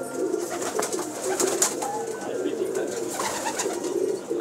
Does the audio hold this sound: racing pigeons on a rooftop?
yes